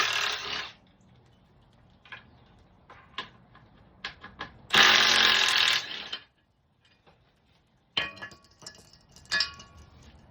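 Bolts coming off the skid plate of a Honda Rancher ATV: scattered metallic clinks and ratcheting bursts, with one louder sustained rattle in the middle and more clinks at the end.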